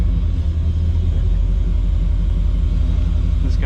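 A truck's engine gives a steady, loud low rumble while it drives along the road, heard from inside the cab as continuous road noise with no talking.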